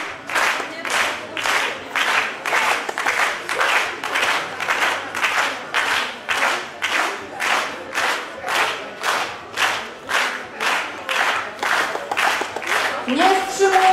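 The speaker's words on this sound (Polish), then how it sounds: "Nie wstrzymujemy oklasków" Crowd at a charity fundraising finale event claps in steady rhythmic unison, loud and continuous with regular beats throughout, a brief voice surfacing near the end.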